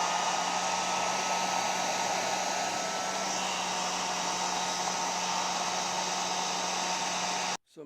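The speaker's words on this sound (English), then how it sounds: "use a hair dryer, and it should help dry" A hair dryer, used to dry adhesive during a suitcase and boot repair, runs steadily with a loud, even whirring hum for several seconds, then cuts off abruptly at the end.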